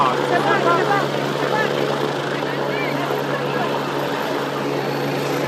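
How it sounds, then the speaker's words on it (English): Inside an army rescue helicopter at an airplane show, a loud, constant rotor and engine drone fills the cabin with a dense, unbroken roar and a steady low hum. "We are inside the helicopter."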